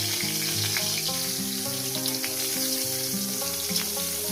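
Eggplant slices fry in hot oil as they are turned. A steady, close crackling sizzle runs throughout, with no voices.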